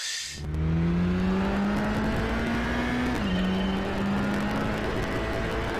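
A car engine in Gran Turismo HD on PS3 turns over and settles into a steady hum, its pitch rising slightly before dropping, with a faint electronic, game-like quality.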